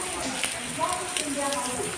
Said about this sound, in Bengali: এখানে প্রচণ্ড বৃষ্টি পড়ছে।